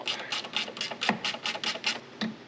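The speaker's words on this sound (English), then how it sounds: "We'll grab a 10mm ratchet wrench and we'll pull this one out." A 10mm ratchet wrench loosens a long headlight bolt on a 2014 RAM pickup, giving a quick, close series of about ten rhythmic clicks.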